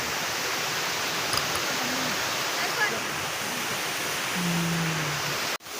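Steady broadband rush of a waterfall on the way to the falls in Kodaikanal, continuous and fairly loud throughout, with a brief faint low tone near the end before a sudden cutoff.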